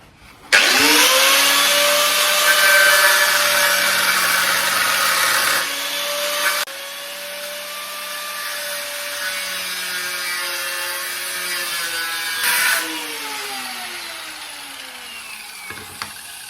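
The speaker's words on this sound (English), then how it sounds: "Doesn't cutting stuff with a grinder make thrilling viewing?" An angle grinder cuts through a metal frame with a loud, continuous high whine that dips in pitch as the disc bites and briefly eases, then spins down at the end. No voices are heard.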